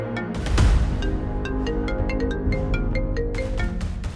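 A mobile phone ringtone plays loud and near, a repeating melodic tune of bright tones over a sustained lower backing that continues throughout without anyone speaking.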